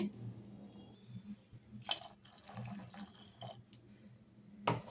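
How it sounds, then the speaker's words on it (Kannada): Water poured from a rinsed mixer jar into a pot of sprouted horse gram sambar, quiet splashing and dripping with a few sharper drops, close and faint. "ಈಗ ಮಿಕ್ಸಿ ಜಾರೆಲ್ಲ ತೊಳೆದ್ಬಿಟ್ಟು ಅದ್ರೊಳಗೆ ನೀರು ಹಾಕ್ಕೊಂಡು ಇವಾಗ ಹಾಕ್ತಾಯಿದ್ದೀನಿ ನೋಡಿ"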